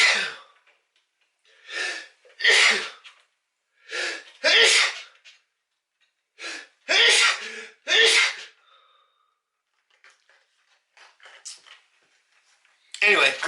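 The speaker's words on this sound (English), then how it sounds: "I'm done sneezing." A string of loud, close sneezes, each preceded by a sharp inhale, spaced a second or two apart with quiet breathing between.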